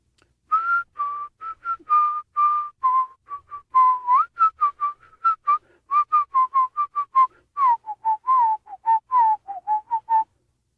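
A person whistles a creepy song solo, a clear, close melody of short, separate notes and brief slides, each sitting at a fairly steady pitch, repeating across about ten seconds in near silence.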